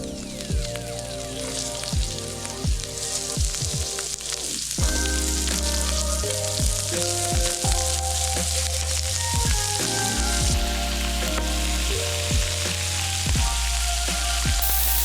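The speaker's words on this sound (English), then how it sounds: "To the same pan, I'm gonna go ahead and add my shrimp." Shrimp searing in a hot pan for shrimp and grits, a loud continuous sizzle with spattering pops and scattered clinks and knocks from the pan, no one talking.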